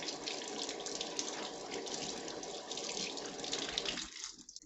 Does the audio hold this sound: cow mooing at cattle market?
no